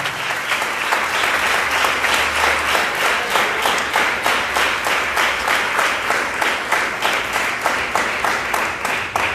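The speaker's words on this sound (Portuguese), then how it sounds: "Se você crê nisso, aplauda bem forte ao Senhor então." A church congregation claps together in a steady, rhythmic beat, loud and sustained for the whole stretch, with the clapping of a full crowd filling the room.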